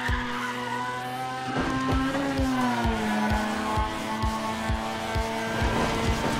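A race car engine in Need for Speed ProStreet revs and whines continuously, with rapid rhythmic gear-like pulses and shifting pitch, loud and close, with no talking.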